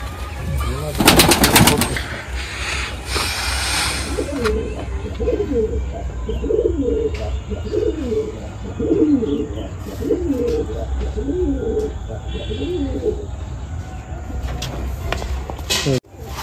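Gola Madrasi pigeons cooing in a rhythmic run of low, repeated coos mid-clip, close by, over a noisy background with a few sharp clatters and rustles at the start.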